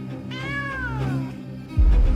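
A loud, close cat meow with a long wavering tone, followed by a sudden low thump.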